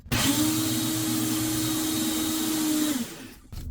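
A blender grinds dehydrated onions into a chunky powder with a loud, steady whirring roar for about three seconds, then winds down briefly before starting again.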